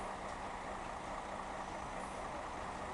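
Trucks pull away across a stadium renovation site at Stadion am Zoo in Wuppertal, giving a steady, fairly distant broadband rumble of diesel engines that holds even throughout with no speech.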